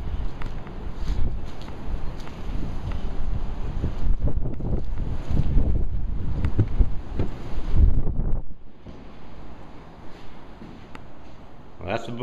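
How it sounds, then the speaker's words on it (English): Gusty wind buffets the microphone outdoors at a house renovation where a deck is being built. The loud, low rumbling is continuous, dips briefly near the end, then picks up again. "It's kind of windy again."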